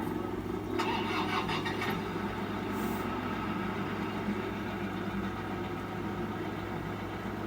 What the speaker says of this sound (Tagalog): So, let's start up.